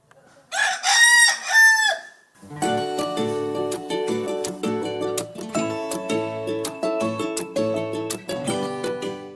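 A rooster crows loudly once up close, then a bright, busy stream of music with a steady beat carries on to the end.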